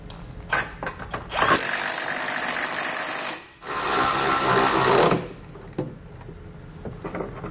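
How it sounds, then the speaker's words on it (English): Power tool tightening bolts with a 17mm socket while mounting a Blue Ox base plate on a 2018 Jeep Grand Cherokee; two loud sustained whirring bursts with a short pause between, then scattered clicks and clanks. "We're going to use a 17mm socket for the first bolts that we installed through the bottom."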